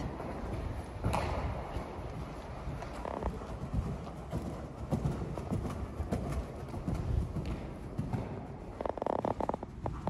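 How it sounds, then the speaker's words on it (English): Horse hooves clop at a stable, a soft irregular patter of steps heard at low level over faint background noise, with no talking. "I really think that the horse jumped very good with a lot of power."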